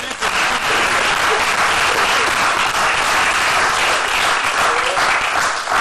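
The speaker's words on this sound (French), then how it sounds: "applaudissez très fort" Dense, loud studio-audience applause fills a French television comedy show, a steady unbroken roar of many hands clapping throughout, with a little crowd noise mixed in.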